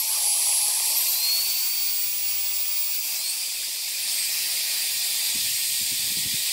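A Fulljion cordless jet dry blower and compressed air duster runs steadily, giving a loud, high, hissing turbine whine that holds its pitch for several seconds, with faint thuds beneath.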